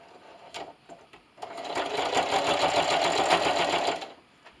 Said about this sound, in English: See you over at the sewing machine.